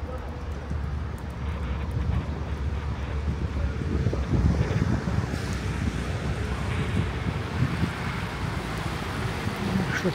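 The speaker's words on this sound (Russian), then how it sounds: "Что-то ветерочек опять подул, то вроде немножко затих. Сейчас опять дует." Gusty wind blows steadily along Srednemoskovskaya Street in Voronezh on a winter day, a continuous broad rushing roar with slight swells that buffets the microphone throughout.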